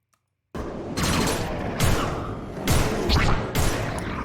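Gunfire impacts in a film's fight scene against monsters and demons: after a brief silence, a series of heavy crashing bursts and thumps hits at intervals, loud and close, with no voices.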